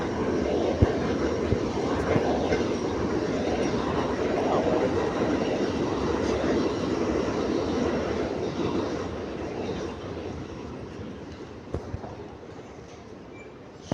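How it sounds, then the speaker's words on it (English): A train passes close by as a loud, broad rumble with rattling wheel noise. It holds steady for about ten seconds, then slowly fades as it moves away. "I want the train to go by."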